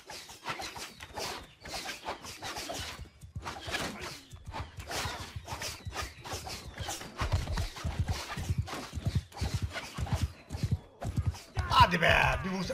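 A horse gallops in Mount & Blade Bannerlord with a steady, rhythmic clip-clop of hoofbeats that builds louder toward the end, beneath a voice and battle noise.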